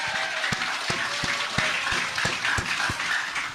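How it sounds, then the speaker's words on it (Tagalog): A crowd breaks into applause, dense clapping that holds steady for a few seconds, fairly close and loud. "Kaya isang palakpak o isang bagsak para kay Mike Defensor."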